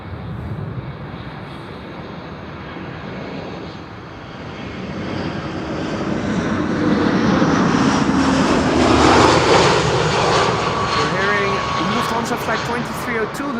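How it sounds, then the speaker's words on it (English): An Airbus A320 landing at Amsterdam Schiphol airport, its jet roar swelling from a distant rumble to a loud broad whoosh as it passes, with someone talking over it. "Flight 2302 landing now, that's an A320"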